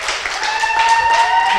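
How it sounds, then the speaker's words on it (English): A conference audience at an annual seminar claps for an activist, a short burst of dense applause lasting under two seconds with a sustained tone running beneath it. "A round of applause for the he for she activist"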